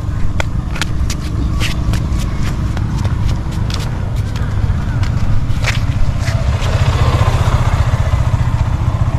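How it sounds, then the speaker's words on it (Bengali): A motorcycle runs close by on a residential street, a steady low engine rumble holding throughout with scattered sharp clicks and taps over it. "বাইক আছে পাশে তো"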